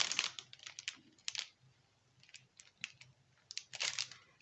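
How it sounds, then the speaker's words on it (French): A ballpoint pen writing a number on a paper label makes faint, close scratchy strokes in short bursts with brief pauses between them. "on prend une étiquette, un bic et on va écrire 31 sur l'étiquette."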